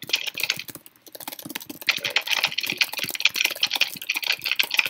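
Rapid, dense clatter of computer keyboard keys during a typing test, close and continuous with a brief pause near the start, then fast uneven bursts of keystrokes. Nobody speaks.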